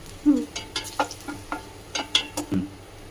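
Garlic sizzling in a hot pan while it is stirred, with a run of short scraping strokes and light crackle close up, no voices.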